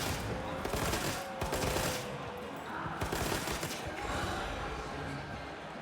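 Rapid gunfire in Monster Hunter Wilds, a dense stream of small-calibre shots rattling steadily near and loud over a busy game background, with some voice-like sounds mixed in.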